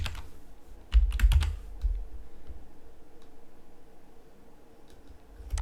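A computer keyboard being typed on in short bursts of quick clicks, with a cluster of keystrokes early on before it falls quiet over a low hum.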